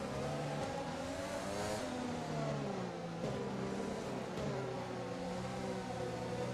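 A Formula One car's engine in the F1 2020 video game revs and climbs through the gears, its high whining note rising and dropping repeatedly, steady and fairly close, with no voices over it.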